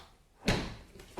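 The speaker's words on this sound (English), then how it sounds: "So I opened the door and boom." A BMW 650i car door opens with a single solid thunk about halfway through, close and clear, followed by a fainter knock at the end.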